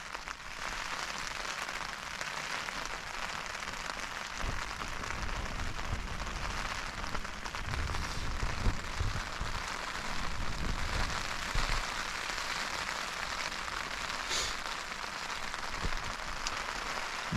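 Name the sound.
wind and rain on a tent while wild camping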